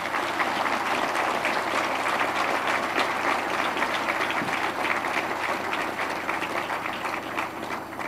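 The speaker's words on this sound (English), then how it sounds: "You can give them a round of applause" Dense, sustained applause from a large audience at a formal White House state dinner, steady clapping filling the room throughout without a break.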